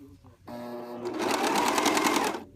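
A serger overlock machine stitches a blind hem on knit fabric in a short, rapid whirring burst. A voice talks just before the burst and runs on beneath it.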